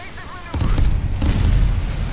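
Secondary guns on a British battleship in the naval game Steel Ocean: a heavy booming blast kicks in, followed by a second report and rolling low rumble, with a voice talking faintly beforehand.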